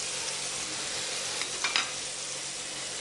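Spices and onion frying for macaroni in a pan, a steady broadband sizzle throughout with a few brief scraping stirs near the middle, close and alone without talk.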